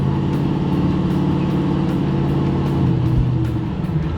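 A 1968 Ford Mustang California Special's V8 drones steadily with a deep, pulsing rumble as it accelerates along a straight road, heard loudly and continuously.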